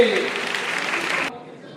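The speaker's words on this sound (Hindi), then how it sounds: "तालियों की कड़कड़ होती रहे इन बच्चों के लिए।" Audience applause for talented students at an award ceremony marking Atal Bihari Vajpayee's 100th birth anniversary. The clapping is moderately loud and steady, with voices mixed in, then cuts off abruptly near the end.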